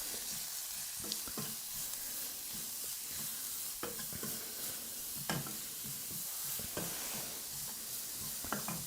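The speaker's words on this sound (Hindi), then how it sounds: "तो यहाँ पे हमें धीमी धीमी आंच पे इसको अच्छे से भूनना है।" Finely grated cauliflower stir-fries gently on low heat, a soft continuous sizzle broken by scattered scraping stirs of a spoon against the pan, no voices.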